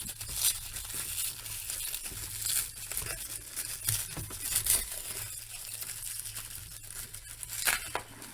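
Steady crinkling and rustling of thin tissue paper from a Hasbro Megatron Transformers action figure package being handled and pulled apart, close by, with no talking.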